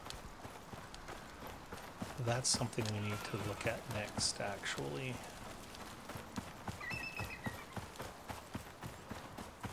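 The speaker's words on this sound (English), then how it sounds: "That is a horse." Steady clip-clop of horse hooves from a mount in the survival game Icarus, a rhythmic run of sharp hoof strikes continuing beneath someone talking, fairly close and moderately loud.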